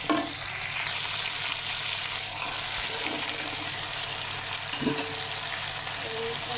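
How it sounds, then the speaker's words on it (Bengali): Cauliflower is stirred with spices in a frying pan for a Bengali cauliflower and rohu fish curry. There is a soft, steady sizzle with occasional scraping stirs, quiet and with no talking. "মশলার সাথে মিশিয়ে নিলাম ফুলকপিটা"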